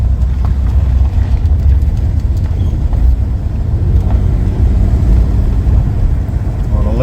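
A Jaguar S3 V12, running on eleven cylinders, cruises along the road with a low, steady engine rumble and road noise heard from inside the car, with no distinct revving.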